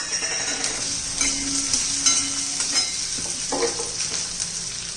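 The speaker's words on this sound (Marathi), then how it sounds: "छान असं परतून घ्यायचं, त्याचा कच्चेपणा जाईपर्यंत" Peas, a small chopped onion and vegetables sauté in hot oil for khichdi, giving a steady close sizzle with occasional stirring scrapes in the pan throughout, no talking.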